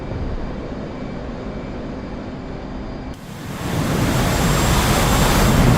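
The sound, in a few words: aircraft taking off in DCS flight simulator video game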